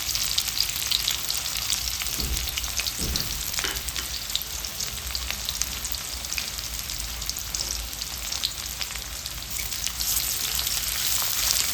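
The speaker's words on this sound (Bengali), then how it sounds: "পেঁয়াজ কুচিটাকে অল্প একটু ভেজে নেবো" Chopped onions fry lightly in a pan, producing a soft, even crackling sizzle with a few stirring knocks early on, constant and fairly quiet.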